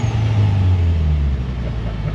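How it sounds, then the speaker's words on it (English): A turbocharged VW Beetle engine revs hard with a loud, steady low drone that swells and then eases slightly, close up with no talking. "Lots of turbo noises too."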